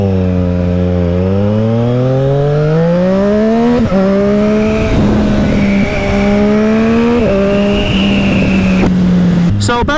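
A 2020 Triumph Street Triple 765 RS motorcycle roars loudly and close while riding, its exhaust note climbing through revs and dipping at gear changes, with a steady rasp and brief pops near the end.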